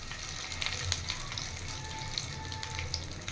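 Spices for tempering fry in oil in a pan for chana dal chutney, a soft steady crackle broken by scattered sharp pops, close and fairly quiet, with no talk.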